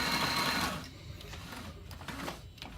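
A sewing machine stitches a battery strap for an FRC robot, giving a steady, close mechanical whir of rapid needle strokes that slows briefly before resuming.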